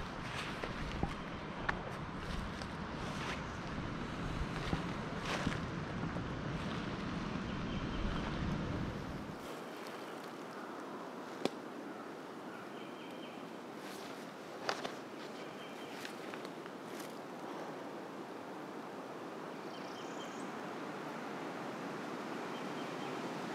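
Wind blows steadily across open public land in Mississippi during an early-season turkey hunt, a continuous broad rushing that drops in low rumble midway but keeps hissing throughout.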